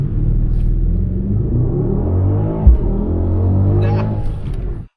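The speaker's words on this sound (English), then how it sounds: "Time to try the 0 to 60 in the GLS." A Mercedes-AMG GLS 63 accelerates from 0 to 60 mph up a freeway on-ramp, its engine a deep, loud rumble that builds steadily from inside the cabin before cutting off abruptly.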